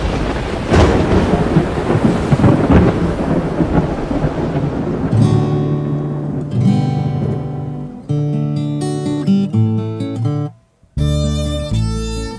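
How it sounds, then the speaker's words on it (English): A squall at sea in an audio drama, with loud rolling thunder and driving rain, then dramatic orchestral music swells in, briefly cuts out, and returns. "Squall! Squall!"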